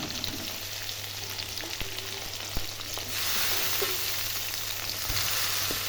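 Onion and garlic frying in oil for a goat meat curry, a steady close sizzle with occasional stirring clicks, growing louder and brighter partway through.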